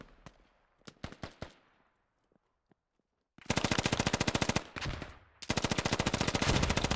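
Gunfire in the Squad video game: a few scattered sharp shots, a brief lull, then long rapid machine-gun bursts firing loud and close in sustained rattling streams.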